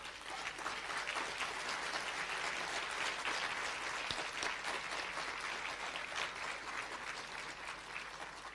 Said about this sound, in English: give your parents, loved ones, a hand of applause